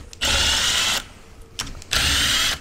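A power tool with a 13mm socket spins loose the bolts on a P40 softwash pump during a teardown, in two loud, steady whirring bursts separated by a short quiet gap.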